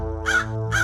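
A crow caws twice in a clear, close harsh call, with a short gap between the two cries and nothing else heard.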